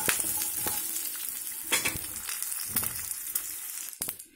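Pieces of coconut roast in a hot kadai with a dry, crackly sizzle and irregular scraping stir strokes, close and continuous without any talk.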